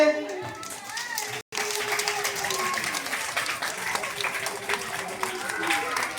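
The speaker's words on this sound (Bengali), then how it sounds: "সবাই একটু হাততালি দেবে।" An audience at a school ceremony claps together in sustained, dense applause. It starts just after a brief spoken announcement, cuts off completely for a split second, then carries on steadily at full volume to the end.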